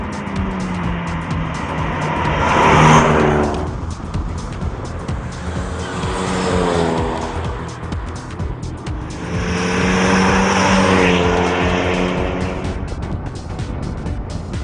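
A Suzuki Swift 1600 fitted with a small VF25 turbo pulls hard under acceleration, its engine revving up in repeated rising surges between shifts, loud and close, with no voices.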